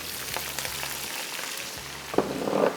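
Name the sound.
frying chicken, garlic, onion and tomato in a karahi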